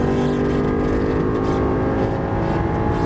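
A Lamborghini Gallardo Superleggera LP570-4 at speed on a race track, its engine a loud steady drone close to the car, holding pitch under load without spoken words.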